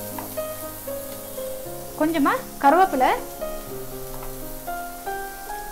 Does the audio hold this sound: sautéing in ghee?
yes